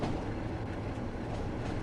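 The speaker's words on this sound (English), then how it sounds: "Just a lovely bit of wintry trains." A Class 33 diesel locomotive in Train Sim World 2 hauls an empty stock move on the West Somerset Railway in wintry conditions, with a steady, loud rumble and rolling rail noise continuing without a break.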